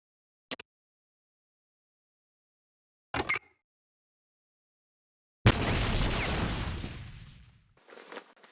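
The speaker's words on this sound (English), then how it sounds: "Target the dummy, and left-click to fire at it." Weapon fire at a training dummy in the Fallout Tactics basic training, heard as a couple of faint brief clicks followed by one loud burst that fades into a rumbling tail.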